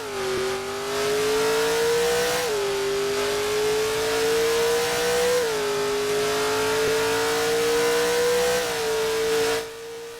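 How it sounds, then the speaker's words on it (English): A car engine in the game Wayfort revving loudly and steadily, its pitch climbing then dropping at each gear change, three times in a row, with no talking. "it sounds like a NASCAR race"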